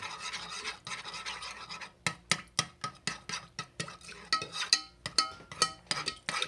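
A utensil stirs cold apple juice in a pot while making apple jelly, giving a close scraping swish that starts as a steady rub and settles into a quick, even rhythm of repeated strokes, with no talking.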